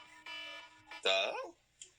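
A morning alarm going off in a room, a faint repeating electronic beeping tone that swells briefly, with a voice reacting underneath.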